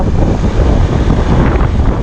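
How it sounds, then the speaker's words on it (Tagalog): Strong, cold wind buffeting the microphone in Gumatdang, Itogon, Benguet, a loud continuous low rumble with no pauses. "Maaraw siya pero malamig yung tama ng hangin."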